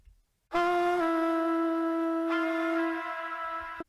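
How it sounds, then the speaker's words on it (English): A single sustained sung note starts after a short silence and holds steadily for a few seconds, processed through a transmitter-style delay effect in FL Studio, with a slightly echoing quality. "if you're on transmitter, it sounds like this."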